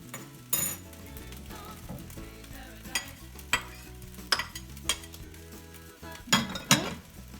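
Fried rice with chopped egg, peas and onion stirred in a pan: sharp metallic scrapes and clinks of a utensil against the pan recur every second or so over a soft sizzle.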